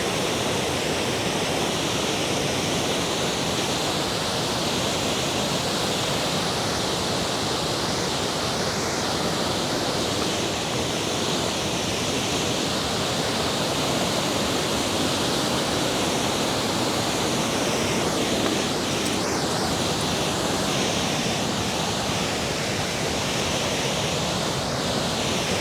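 Upper Kennedy Falls pouring into its pool, a steady, full roar of falling water, close and unchanging for the whole stretch with no voices.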